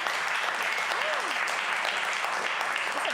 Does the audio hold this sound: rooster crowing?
no